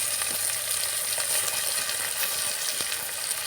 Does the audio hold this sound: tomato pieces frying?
yes